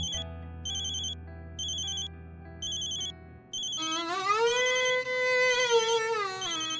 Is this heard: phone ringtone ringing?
yes